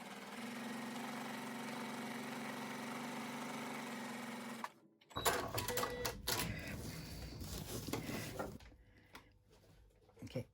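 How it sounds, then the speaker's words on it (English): A sewing machine stitching a round rice bag along a chalk line, a steady fast whirring hum that stops abruptly, followed by clicks, rustling and handling of fabric. "First thing I'm going to do is sew right on that first chalk line I did."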